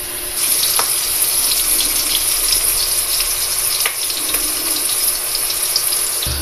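Onion sizzling with toasted ginger in a hot pan, a steady close hiss of frying with occasional faint pops and clinks, no talking.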